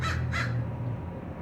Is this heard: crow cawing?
yes